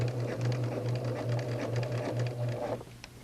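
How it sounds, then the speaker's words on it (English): Sewing machine stitching two ends of elastic together for a casing, a quiet steady rapid needle patter running for a few seconds before stopping, no talking. "We will now sew this elastic together on our chalk mark."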